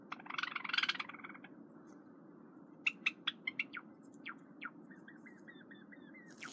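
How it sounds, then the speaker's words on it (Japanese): A male pet frog sings a series of short, bright chirping calls in quick succession, preceded by a crackly rustling burst, close and fairly quiet. "聞こえるペコの歌。 これオスの特徴なの"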